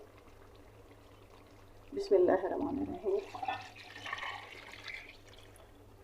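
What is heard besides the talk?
measured water poured into pot of chicken pulao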